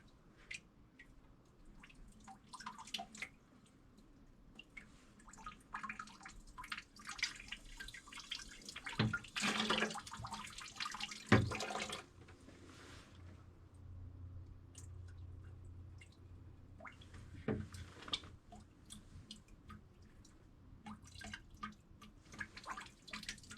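Residual water trickles and drips while sediment is rinsed out of an off-grid water filter, quiet irregular splashes and drips with a louder sloshing burst in the middle, no talking.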